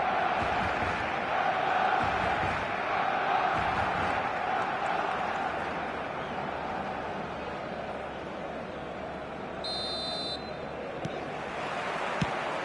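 A large stadium crowd in the eFootball video game roars steadily on match day, a dense continuous wash of cheering and chanting with a brief whistle-like tone near the end, no clear talk over it.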